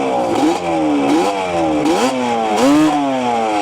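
A Banshee supermoto engine revved hard under throttle in several rising and falling bursts, a loud close two-stroke buzz with no talk.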